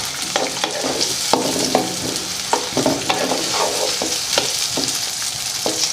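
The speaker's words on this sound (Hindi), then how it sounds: "अब मैं डाल रहा हूँ 2 प्याज जो मैंने चकोर काट के रखे हैं, ये वाले डाल रहा हूँ। इसको करेंगे मिक्स।" Two square-cut onions frying in a pan for spicy smoky kaleji make a loud, continuous sizzle, with frequent scraping stirs of a spoon over it.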